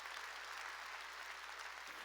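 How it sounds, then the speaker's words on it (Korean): A church congregation claps in a short, steady burst of dense applause that sounds faint and somewhat distant, with a low hum underneath and no voices. "깨달았으면 세게 박수야."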